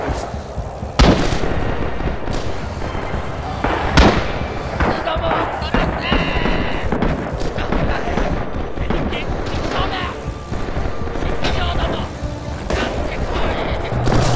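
Artillery shelling in the video game Rising Storm, sustained loud barrages of booming blasts and crackling gunfire, dense and close, with voices talking over the battle noise.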